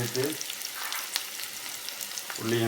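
Sliced onion and garlic hit a little hot oil in a pan and fry with a bright, steady sizzle, close and moderately loud, with brief stirring scrapes at the start and end.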